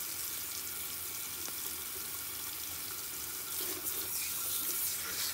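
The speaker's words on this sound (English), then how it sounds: "let's go ahead and rinse my hair" Steady broadband rush of water from a tap running during a hair rinse, continuous and fairly close, growing a bit louder and splashier toward the end, with no talking.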